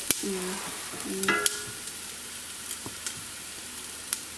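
Tomatoes tipped into a pan of ginger and garlic frying for a chicken and vegetable soup, giving a steady close sizzle with a few scraping stirs and clunks near the start, with no talking.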